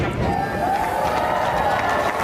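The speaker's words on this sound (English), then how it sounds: "And that earned a rousing applause." Dense, continuous applause from a large crowd at a presidential inauguration, a steady wash of clapping with a faint voice carrying over it.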